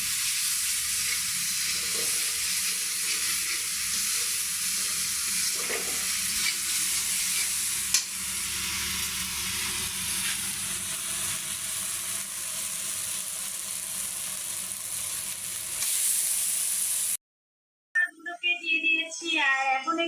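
Spice paste frying in oil for a singi fish curry, a steady bright sizzle with occasional stirring scrapes that runs continuously for about seventeen seconds before cutting out, followed by a short stretch of other sound.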